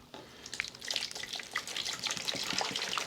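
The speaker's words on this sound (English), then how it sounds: "So I pour in the water." Water pours into a spare container meant to give pet fish more room, a close, steady splashing and gurgling stream that runs for a few seconds with no talk over it.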